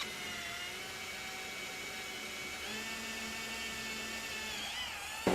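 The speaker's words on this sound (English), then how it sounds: "I got it drilled out" A power drill bores holes to be threaded with a 1/4 inch MPT pipe tap for a DIY automotive smoke machine, giving a steady, close, high-pitched whir that shifts speed partway through and ends in a brief louder burst.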